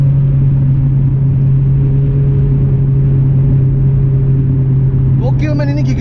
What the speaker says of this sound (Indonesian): Kita masukin kedua. Kita mulai gas. Tuh gigi 2 dia panjang amat.